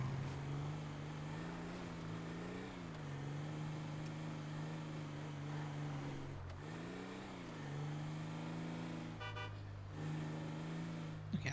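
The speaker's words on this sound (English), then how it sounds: "I came specifically around the wall so I could beep at him before we left" A car horn gives a quick series of short beeps late on, standing out over the low steady hum of an idling engine heard from inside the vehicle.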